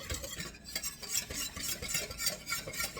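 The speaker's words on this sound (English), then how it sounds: "Mix this as much as you can without any lumps. That's why I say get a whisk." A whisk beats a creamy macaroni salad dressing in a bowl, giving quiet, rapid, rhythmic swishing and light clinking up close, with no talking.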